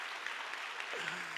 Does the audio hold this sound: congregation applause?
yes